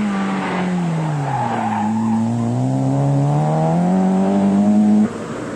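A 16-valve Volkswagen Golf GTI rally car on a stage of the 1987 Circuit of Ireland Rally, its engine revving loudly and rising in pitch through the gears, close by, then cutting off abruptly near the end.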